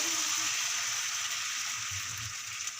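Dosa batter of rice, chana dal and urad dal sizzles steadily on a hot pan, a soft continuous hiss with no talk.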